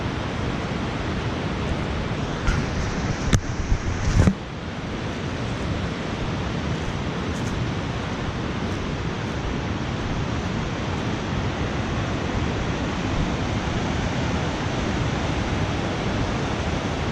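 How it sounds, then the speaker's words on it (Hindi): Fast-flowing river water in Kashmir rushes far below a high vantage point, a loud, steady, hissing roar that runs throughout, with a few brief knocks near the start. "नीचे पानी की स्पीड ज़रा चेक कीजिए कितनी है, बहुत ज़्यादा स्पीड है यहाँ पे"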